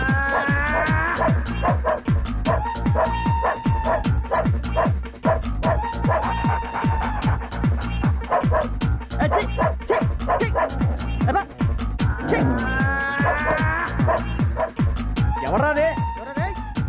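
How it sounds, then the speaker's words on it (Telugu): A dog barks repeatedly in a rapid, insistent rhythm, close and loud, mixed with people talking and background music from a comedy scene. "అది నిజం కుక్క అదే"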